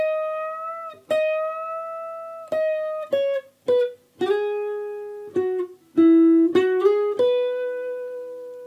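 A clean solo guitar plays the lick from a song's solo in an otherwise quiet room. A run of separately picked notes is joined by sliding, gliding pitch changes and bends.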